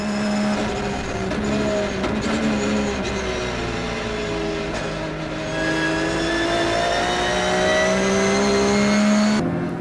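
Race cars at the Nürburgring 24-hour race pass as a continuous loud engine roar, with rising and falling pitch from several cars accelerating and shifting close by and no voices.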